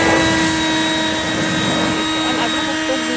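A leaf blower clearing a front yard gives a steady, loud whining drone with a strong hum, running continuously and close by for the whole stretch.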